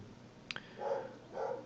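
A neighbor's dog barks faintly in the distance, two or three soft, muffled barks spaced apart, after a brief sharp click.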